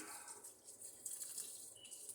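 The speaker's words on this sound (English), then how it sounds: "now you want to take your sugar water, you want to pour it directly over top" Sugar water poured over fruit in a carboy while making homemade apple wine, a steady close splashing trickle with brighter bursts midway, no talking.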